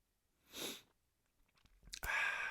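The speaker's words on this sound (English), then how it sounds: "I'm about to sneeze." A sniffing inhale, then a pause with small mouth sounds, and a sharp sneeze burst near the end, close and fairly loud, with no talking.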